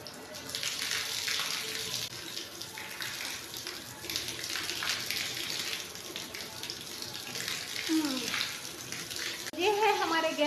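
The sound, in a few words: water running from a hose pipe while washing the street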